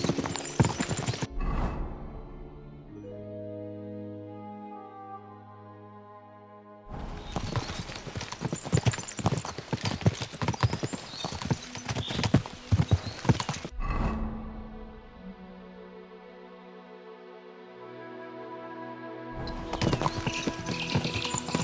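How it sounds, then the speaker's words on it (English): Bursts of galloping hooves pound loudly in the video game Kingdom Come: Deliverance 2, alternating with calmer stretches where long tonal calls, like horse whinnies, ring out alone. "We should spur the horses on."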